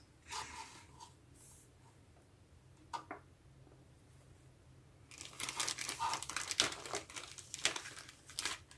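Paper towels crinkle and rustle close by, a few brief crumples early, then a longer stretch of loud crumpling and scrunching toward the end.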